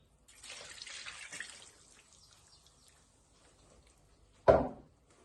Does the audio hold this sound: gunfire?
no